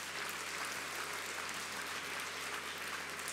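A church congregation claps together during a conference service, a steady, dense wash of applause from many hands that holds at an even level throughout.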